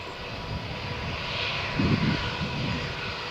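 Lufthansa Airbus A321 jet at Malaga Airport on a stormy morning, engines giving a steady rushing roar that swells briefly in the middle, heard alone at a distance.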